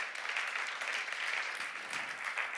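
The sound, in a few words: congregation applause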